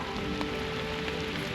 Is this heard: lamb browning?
no